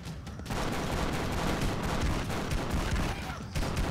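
Video-game gunfire crackles in dense, rapid bursts, a sustained loud fusillade of overlapping shots and booms that starts abruptly and keeps going with no clear pauses.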